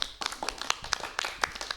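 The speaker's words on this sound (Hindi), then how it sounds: "तालियां बजाइए संकादी के लिए।" An audience claps for a child singer on a children's TV programme, uneven scattered claps from a small group, close and fairly quiet, with no talking over them.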